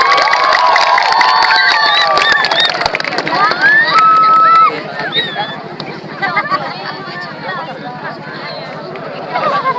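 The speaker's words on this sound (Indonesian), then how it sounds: "mari silakan aplaus sekali lagi yang meriah" Outdoor crowd at a rocket launch event cheering and clapping loudly, dense and continuous, with shouts and an announcer's voice mixed in before the noise thins out.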